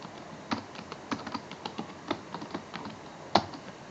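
Python commands being typed on a computer keyboard: light, irregular clicks with a few sharper keystrokes, faint and close, with no talk.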